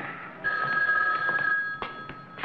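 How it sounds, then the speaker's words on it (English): An old-fashioned telephone bell rings in a steady, close, insistent burst over a quiet room in a radio drama scene, with a few soft knocks around it. "Answer the phone."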